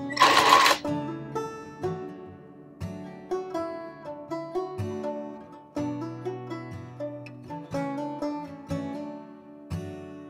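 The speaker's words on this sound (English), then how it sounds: "this needle goes over that entire seam right there" Sewing machine needle stitching across a seam in organic fabric, with a series of sharp, regular clicks and short mechanical bursts repeating steadily and close by, alone without talk.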